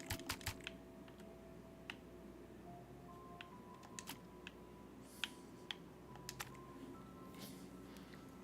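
Computer keyboard keys pressed in sparse, irregular clicks, some sharper than others, fairly close but quiet over a steady low background hum, with no talking.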